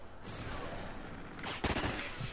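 Gunfire in a first-person shooter video game, a CBJ-MS weapon firing in a dense, continuous burst with a louder cluster of shots near the end, heard alone without speech.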